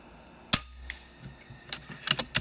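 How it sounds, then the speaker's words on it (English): An FX Impact M3 .30 caliber air rifle is cocked, then fired with one sharp, loud pop, followed by several lighter mechanical clicks and snaps from the action. "Let's cock the gun and shoot a little group here at 50."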